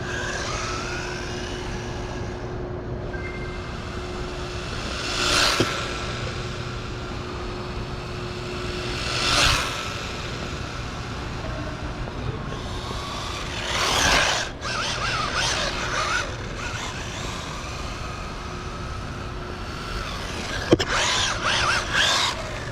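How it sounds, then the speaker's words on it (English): A mini 4WD RC drift car, a Mini ARRMA Infraction, whirs and buzzes across a glossy mall floor. Its motor tone swells and fades as it passes, with sharp tire squeals and scrapes recurring every few seconds. "There we go, cool little car, drifting around on the nice glossy mall floor."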